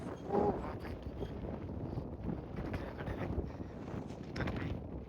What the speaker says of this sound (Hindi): बहुत ठंडी, बहुत तेज़ हवा चल रही है